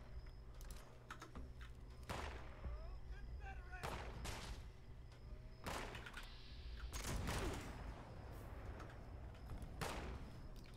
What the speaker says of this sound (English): That's probably a good chance to test out that pistol